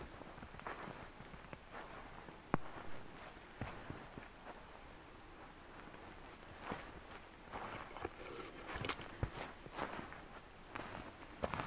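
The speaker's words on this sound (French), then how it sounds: "J'adore le bruit de mes pas dans la neige, écoutez." Footsteps crunching through snow on a winter hike, a steady run of soft, close crunches and scuffs at an unhurried walking pace, with no talk.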